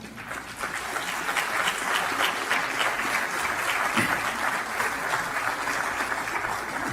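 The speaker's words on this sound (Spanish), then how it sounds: "Denle un aplauso al Señor." A church congregation bursts into sustained applause during a sermon, steady dense clapping from a large crowd filling the room at moderate level throughout, with no speech over it.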